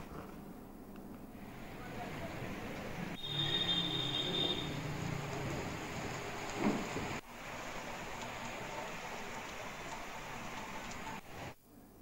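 Heavy monsoon rain in Uttarakhand falls over farm fields: a steady, dense broadband hiss of downpour that stays loud throughout, with brief dips and shifts in texture.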